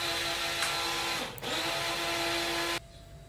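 Kitchen mixer grinder blending soaked rice and dal into idli batter, a steady high whine with a brief dip midway, then cutting off abruptly near the end.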